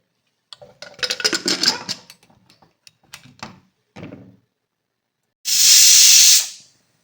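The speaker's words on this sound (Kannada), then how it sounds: "ಮೂರು ವಿಜಿಲ್ ಆಗಿದೆ ಈಗ ನಾನು ಆಫ್ ಮಾಡ್ತೀನಿ" A pressure cooker, used for mutton liver chops, lets out one loud, sustained blast of hissing steam near the end, after softer clatter and knocks.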